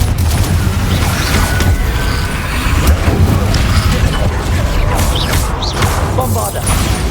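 Confringo fire spells burst in Hogwarts Legacy combat: a dense, loud run of booms and crashing impacts over a constant rumbling battle bed, with a voice calling out among the blasts.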